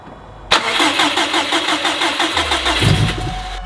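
A built 2005 Subaru STI fires up for the first time after its rebuild. The starter cranks sharply, then the engine catches into a loud, close, rough idle with a brief rise in revs.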